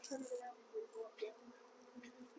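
A swarm of honey bees buzzes steadily around a hive box that has been moved, a soft and continuous hum with wavering tones.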